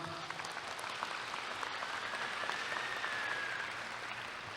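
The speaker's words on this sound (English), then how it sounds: "Give her a round of applause." A graduation audience claps for a graduate, steady, even applause heard from a distance at fairly low level, with faint voices mixed in.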